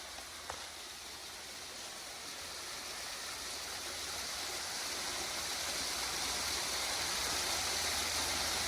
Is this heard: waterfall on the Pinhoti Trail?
yes